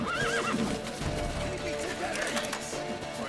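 A horse neighs and whinnies in The Witcher 3, its wavering call rising over steady hoof clip-clop and busy game ambience, with voices calling out close by.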